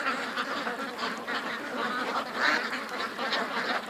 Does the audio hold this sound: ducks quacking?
yes